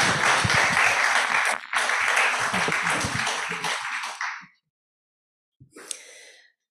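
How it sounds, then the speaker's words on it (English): An audience at a celebration of equal ordination for women claps in welcome for a speaker, a dense, steady applause that fades out after about four seconds and is followed by a brief clatter and rustle. "let's give her a round of applause and welcome her"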